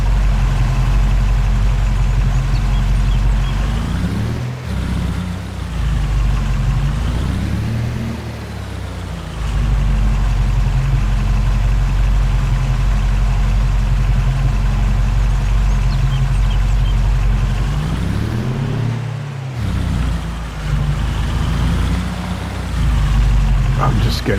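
A tractor engine idles in Farming Simulator 22, giving a steady, loud low drone that runs almost without a break and sags briefly a couple of times.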